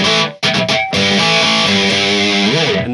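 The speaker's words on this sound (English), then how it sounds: "I'm getting some harmonics here now" A sustained, heavily distorted electric guitar rings out with bright harmonic overtones after a brief pause, then slides in pitch near the end.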